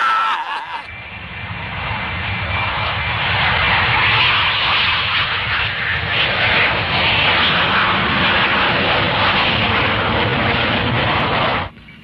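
Steady airplane engine roar inside the cabin, a loud continuous broadband rumble that swells after a moment, holds for about ten seconds, then cuts off abruptly.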